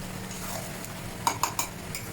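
Chicken curry with potatoes stirred in a pan with a small spoon, three quick metallic clinks of spoon against pan over a quiet background hum, no talk.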